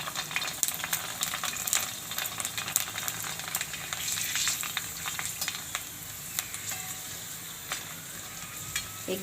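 Puris deep-frying in hot oil, a continuous close crackling sizzle dotted with sharp bubbling pops over about nine seconds, fairly quiet and without talk.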